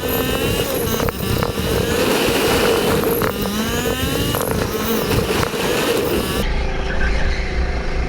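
Racing kart engine during a karting league race, a loud steady buzzing drone running close and continuous at high revs, with no talk.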